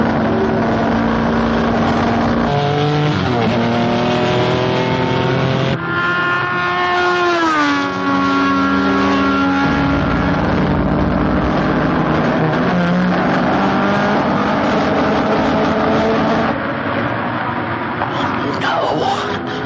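A race car screams around a circuit on a fast lap, its engine note loud and continuous with rising and falling pitch as it shifts and accelerates through the run, carrying steadily for the whole stretch.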